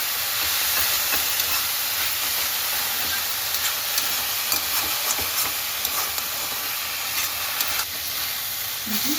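Potatoes frying in a pan with salt and turmeric give a continuous loud hissing sizzle with faint clicks of stirring throughout, no speech.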